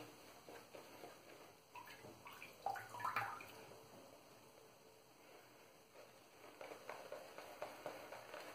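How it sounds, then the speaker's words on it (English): Water trickling and dripping into a shaving bowl as more is added to build lather, soft close splashes and gurgles with a few sharper drips, fairly quiet throughout. "I'm gonna add some bit more water here."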